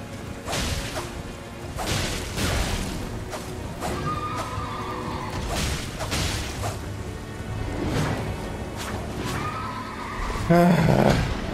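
A horse in the video game Elden Ring, with neighs and whinnies mixed among whooshing weapon swings, hits and hoofbeats during a combat sequence.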